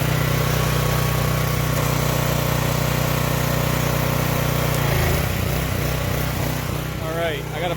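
A Husqvarna 3100 PSI, 2.5 GPM pressure washer engine runs loudly and steadily up close, its drone shifting in pitch partway through, before someone briefly speaks near the end.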